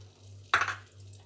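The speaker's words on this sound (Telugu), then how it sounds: "ఆయిల్ హీట్ ఎక్కిన తర్వాత ఎగ్స్ని వేసుకోవాలి" Eggs dropped into hot oil in a pan while making fast-food style noodles, giving one sudden close crackling sizzle burst that quickly fades back to a low hum.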